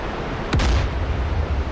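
A single close, booming shot from a Mark 45 naval gun aboard a modernized US warship in a video game, a sharp crack with a falling whine and low rumble over steady sea-like background noise.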